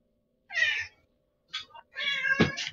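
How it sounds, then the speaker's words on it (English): A cat meows three times at close range, clear and fairly loud, with short pauses between the calls. "I heard a cat."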